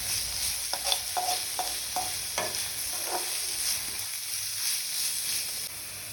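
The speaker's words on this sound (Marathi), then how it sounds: "आता आपण पेस्ट मिक्स करणार आहोत." A coriander paste for kothimbir vadi is mixed and stirred in a bowl, producing soft repeated scraping and squishing strokes over a faint background hiss, with no talk.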